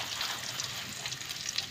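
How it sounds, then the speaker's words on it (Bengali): Raw onion and bay leaves fry in leftover oil from frying cauliflower, giving a soft, steady sizzle that stays faint and close, with no voices. "এই তেলের মধ্যে দেবো কাঁচা পেঁয়াজ আর তেজপাতা"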